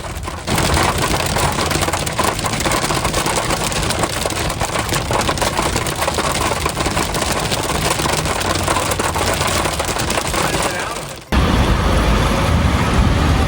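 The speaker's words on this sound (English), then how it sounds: "Got a little tiny bit of hail mixed in here." Heavy rain with a little hail pelts an RV during a big thunderstorm near Bryce Canyon, a dense, loud, steady hiss and patter that cuts off abruptly near the end.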